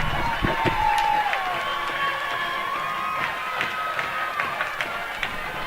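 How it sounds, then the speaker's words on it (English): Tiger fans in the stands at a 2011 high school football second-round state playoff game, Prairie Grove vs Malvern: a steady, distant crowd roar with scattered shouts and whoops and a few whistle-like tones. "you can hear the Tiger fans in the background"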